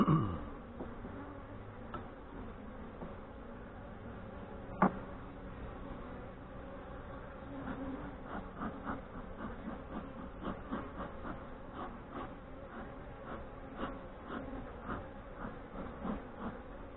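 Honey bees hum in a steady, busy drone during a hive inspection in northwest Wisconsin, heard close with light handling knocks and one sharp tap, and no talk.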